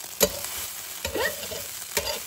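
Eggs being scrambled into bhurji in a very hot pan, a low steady sizzle with three sharp spatula scrapes spaced about a second apart, close and moderately loud, no talk.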